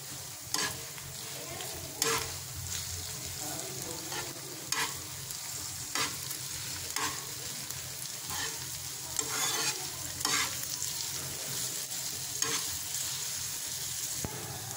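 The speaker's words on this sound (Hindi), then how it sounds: "कीमे को अब इसमें ऐड करेंगे लहसुन का पेस्ट, और अच्छे तरीके से इसे भूनेंगे।" Minced meat keema frying in a pan with garlic paste, a steady soft sizzle broken by repeated scraping strokes of a spoon stirring it, close and continuous without talk.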